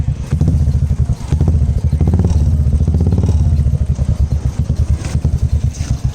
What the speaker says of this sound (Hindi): और मैं अपना इसका एग्जॉस्ट ये आवाज़ सुनिए